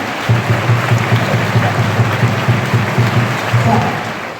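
Students clap loudly in a school hall during a motivational programme at a Mahatma Jyotiba Phule residential school in Nagarjunasagar. The applause is dense and close and runs unbroken throughout, with a faint murmur of voices underneath.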